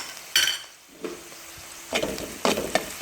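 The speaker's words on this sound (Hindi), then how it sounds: "अब हम इसके अंदर लहसुन डाल देंगे, कुटा हुआ लहसुन।" Crushed garlic hits a pan of lightly sautéed onions while cooking a fried masala baingan bhujia, giving bursts of loud sizzling and frying with stirring scrapes, no talking.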